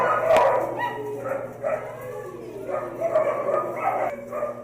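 Rescued puppies yapping and barking close by, a quick run of high yips and whimpers overlapping one another with no one talking.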